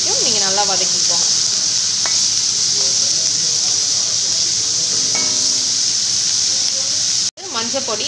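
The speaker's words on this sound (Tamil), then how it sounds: "ஸோ இப்போது இஞ்சி பூண்டு பேஸ்ட்டையும் ஆட் பண்ணிவிட்டு நல்லா வதக்கிக்கோங்க." Ginger garlic paste and shallot paste sautéing in hot oil give a steady, loud sizzle throughout, with brief stirring scrapes and a short break near the end.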